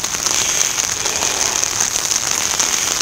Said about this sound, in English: in the fucking rain